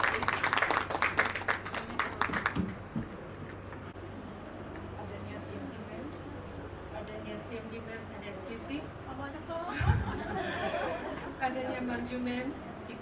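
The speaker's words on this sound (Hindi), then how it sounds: "तालियों से हेमा मैम का और मैम का दोनों का प्लीज स्वागत कीजिए" Audience at a school farewell and Hindi Diwas celebration claps in a brief burst of applause near the start, then settles to a murmuring room with scattered voices and light laughter.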